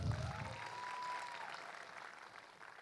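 Faint, distant applause from a stand-up comedy show audience, a steady wash of clapping that slowly fades over a few seconds, with a thin sustained tone briefly audible.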